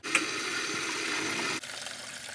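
Water gushing steadily from an electric water heater tank as sediment is flushed out, a continuous loud rushing flow that drops in level abruptly near the end.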